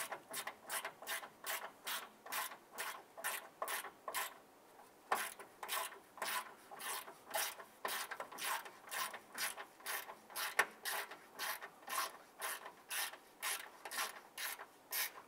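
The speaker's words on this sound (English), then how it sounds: "Now I'm going to tighten this down using our hand ratchet" Hand ratchet tightening a bolt that anchors a plastic part to metal while fitting an A/C condenser on a 2011-2017 Honda Odyssey, giving steady rapid clicking bursts in repeated strokes, close and alone, with a brief pause midway.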